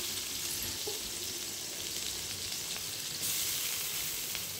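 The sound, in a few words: onions frying in hot oil in a wok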